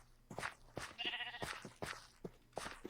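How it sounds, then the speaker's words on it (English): Blocky Minecraft sheep bleating in a video game, several short bleats repeating at a steady rhythm, close and clear with no talk over them. "Well, there's a sheep."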